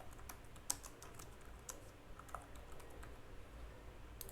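Steady, quiet typing on a computer keyboard while a SQL query is entered, with irregular light key clicks running throughout and no voices.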